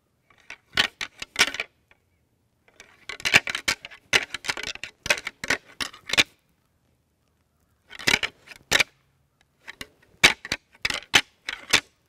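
Antlers clashed and ground together in a rattling sequence to draw in a buck during a Kansas bowhunt, sharp clattering bursts in irregular clusters with short pauses, close and fairly loud.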